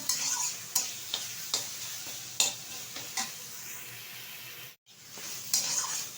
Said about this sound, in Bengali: আর একটু টানিয়ে নেব, একটু শুকনো শুকনো করে নেব